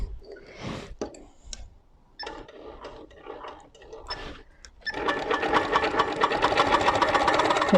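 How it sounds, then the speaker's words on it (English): A sewing machine runs for free motion quilting, first in brief stop-start bursts with light ticking, then in a steady, louder continuous stitching hum. "make sure it's stitching properly before I do anything else"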